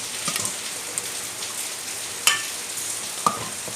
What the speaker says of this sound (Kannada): ಈಗ ಮಿಕ್ಸ್ ಮಾಡುವ ಚೆನ್ನಾಗಿ.